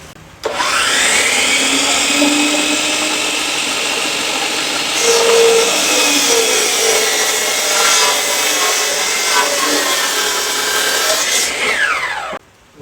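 A miter saw cuts a wood board to length: a loud, close motor whine spins up, grinds steadily through the cut for about twelve seconds, then winds down.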